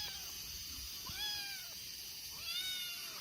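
A cat meows repeatedly outdoors, three drawn-out rising and falling calls over steady rain noise during heavy rainfall, close and clear with no talking.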